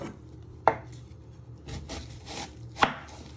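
A knife chops the ends off a vegetable for a Chinese chicken curry pie, making two sharp, distinct strikes on a cutting board about two seconds apart, with soft shuffling and rubbing between them.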